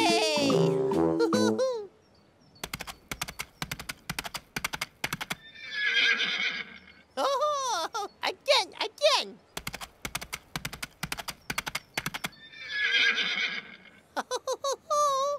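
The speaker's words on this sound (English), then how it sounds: "Tinky Winky pretended to be a horse." Horse whinnies alternate with rapid clip-clopping hoofbeats in quick bursts, close and clear, with a short voice sound at the very start.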